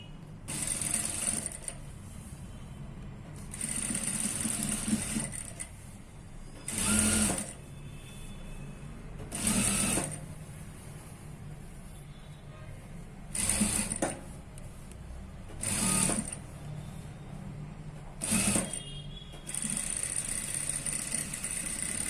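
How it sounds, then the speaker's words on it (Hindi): A sewing machine stitches a single piece of fabric in short bursts, its rapid whirring rattle starting and stopping about eight times, with quiet pauses between runs. "देखिए, मैं यहाँ से यहाँ तक इसे स्टिच करता हूँ। सिर्फ ये सिंगल पीस पे मैं स्टिच करूंगा।"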